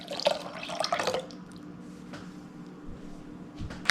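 A cup of water is poured into toffee pecan cake batter in a kitchen, giving a brief close splashing, trickling gurgle in the first second, then fading to quiet handling noises.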